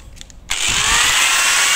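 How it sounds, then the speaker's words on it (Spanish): An angle grinder, unguarded, bites into the drive chain of a 2020 Honda CBR 650R motorcycle, starting abruptly after a brief quiet moment and then holding a loud, steady, high-pitched grinding whine close by. "Siguiente paso, cogemos la rotaflex."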